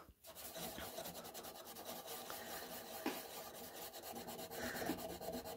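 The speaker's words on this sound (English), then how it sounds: "I like the finishing pad because it's not so rough that it damages my transfer or distresses it in any way" A finishing pad rubs along the edge of a furniture transfer on a painted furniture piece, giving a steady, quiet, close scratchy rasping that continues without a break.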